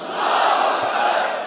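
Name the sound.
crowd chanting religious slogan in response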